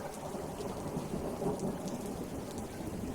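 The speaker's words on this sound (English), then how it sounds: "listening to the storm" Steady rain hiss mixed with low rumbling thunder during a storm, continuous and fairly loud throughout with no voices.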